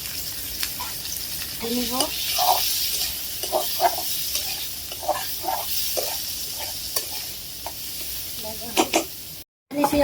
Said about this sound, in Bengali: তেল দিয়ে দিলাম, রসুন দিয়ে দিলাম, কাঁচামরিচ দিয়ে দিলাম, পেঁয়াজ দিয়ে দিব